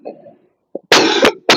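A person coughs sharply twice in close succession after a soft throat sound, the coughs loud and near with a brief pause between them.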